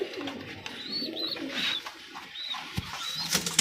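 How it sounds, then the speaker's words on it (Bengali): Pigeons brooding on their eggs in a home loft coo repeatedly up close, with soft rolling calls and a few thin, high chirps mixed in. "এদিকে আছে আলহামদুলিল্লাহ গোল্লা কবুতরগুলো বসে আছে।"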